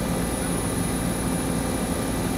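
Steady, loud rotor and turbine roar of a helicopter during an air assault training exercise, continuous and close with no pauses.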